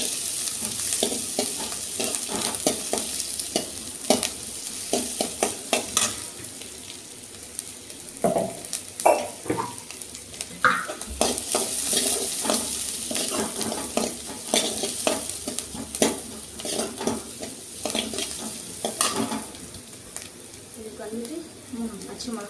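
Chutney ingredients sautéing in a pan for a Madurai-style coconut chutney, a steady sizzle with frequent scraping and stirring strokes, close and fairly quiet throughout.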